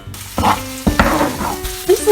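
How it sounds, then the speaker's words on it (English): Onions frying in a pan, a loud close sizzle broken by stirring and scraping clatter, with no voices. "I'm gonna finally cook off some onions that have been here for eternity"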